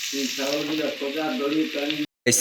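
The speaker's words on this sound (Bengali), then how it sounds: "এই যে দেখো তরকারি সিজছে" Curry sizzles and fries steadily in a pan over a village cooking fire, a loud close hiss that cuts off abruptly near the end and then resumes.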